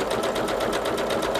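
Sewing machine stitching the edges of a fabric gift box, a close, steady mechanical whir with fast, even rhythmic pulsing, running continuously without talk.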